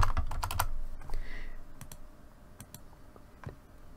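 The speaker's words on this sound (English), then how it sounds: "Just type it in." Typing on a computer keyboard during a Clip Studio Paint session, a quick burst of close key clicks at the start followed by scattered, lighter individual taps with quiet pauses between.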